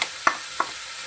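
Chopped onions hit hot olive oil and sizzle steadily, with two sharp clacks of a stirring utensil against the pan, close up and with no talking.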